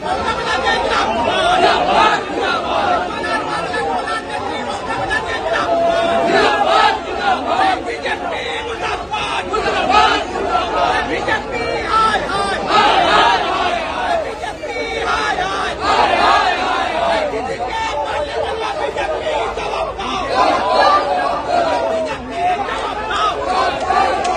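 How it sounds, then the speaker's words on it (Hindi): A large crowd outside a hospital in Kolkata clamours continuously, many voices overlapping in loud chatter and rhythmic slogan shouting, close and dense throughout. "अस्पताल के बाहर भारी भीड़ है, नारेबाजी भी हो रही है।"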